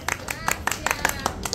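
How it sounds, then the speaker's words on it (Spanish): Clapping during a live stream, a quick, fairly even run of individual hand claps close to the microphone, about a dozen in under two seconds. "un aplauso para Xiomara, ¿verdad?"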